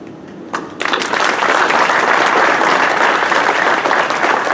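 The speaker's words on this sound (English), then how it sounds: "Another round of applause" Audience applause at the opening of a building on Edith Cavell Street in Mauritius: a few early claps, then loud, dense, steady clapping that carries on without a break.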